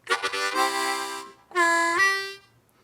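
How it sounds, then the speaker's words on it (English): A harmonica plays a few short reedy chords, then a long drawn note on hole 2 that bends downward in pitch and releases, in a blues train pattern, close and fairly loud. "I might breathe in, bend the 2 down and release it so it would sound like this"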